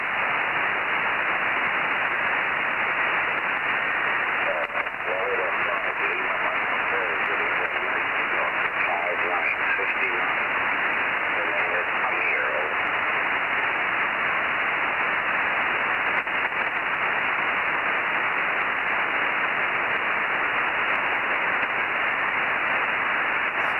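An amateur radio receiver tuned to a CQ station on the 20 or 40 metre band hisses with steady static throughout. A faint, band-limited voice is buried in the noise.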